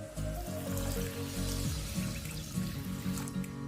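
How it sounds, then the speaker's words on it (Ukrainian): Water runs and splashes steadily into a bowl as sushi rice is rinsed, a continuous close pouring sound with no voices over it. "З самого початку займемося рисом, залиємо водою, промиємо декілька разів"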